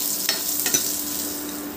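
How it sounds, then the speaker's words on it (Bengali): Three or four finely chopped garlic cloves fry in hot oil for masoor dal, giving a soft, steady sizzle broken by two quick stirring scrapes; no talking. "রসুনটাকে তেলের মধ্যে একটু ভেজে নেব ভালো করে।"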